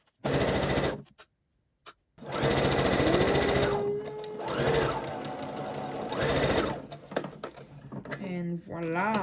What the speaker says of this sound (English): now I'm gonna start sewing from here all the way down